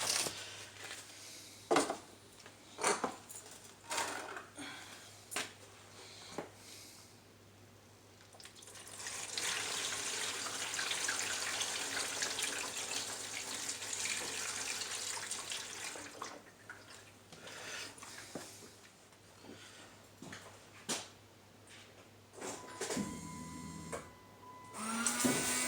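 A replacement window washer fluid pump on a 1998 Dodge Grand Caravan runs with a steady whirring hum and spraying hiss for several seconds, framed by scattered clicks and handling noises, close and moderately loud.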